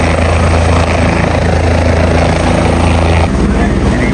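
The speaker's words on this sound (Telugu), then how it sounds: "ఇరిగిపోయిన హెలికాప్టర్ ఇచ్చారా" Steady, loud roar of a helicopter in flight on a mountain pilgrimage route to Kedarnath, a dense continuous rotor and engine drone filling the scene from start to finish.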